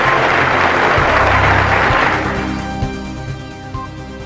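An audience bursts into dense applause, loud for about two seconds, then the clapping thins out and fades, leaving a low steady hum and a few scattered claps.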